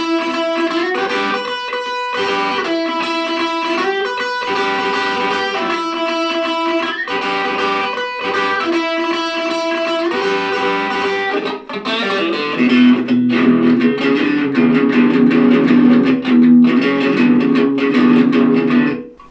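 Electric guitar, an HSS Affinity Strat, playing through a Boss Katana Mini amp with light effects, sounding as steady repeated chords and riffs that thicken into a denser strummed passage near the end, clear and unaccompanied by talk.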